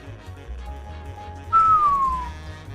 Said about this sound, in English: Did you detect that whistle?